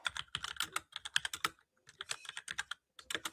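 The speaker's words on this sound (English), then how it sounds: "Your keyboard's coming through" Rapid clattering keystrokes on a computer keyboard come in quick bursts with a brief pause in the middle, fairly close and with no talking.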